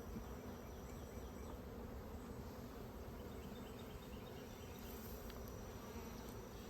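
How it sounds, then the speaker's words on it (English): Honey bees buzz steadily around mini mating nucs as they fill out their frames, a faint, continuous drone with no pauses and no voices. "Bees are really busy today."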